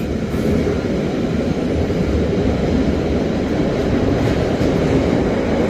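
The Furka pass car-carrying train rolls along with a motorhome aboard. A loud, constant low rumble and rattle from the moving rail carriages fills the whole stretch, heard from close inside.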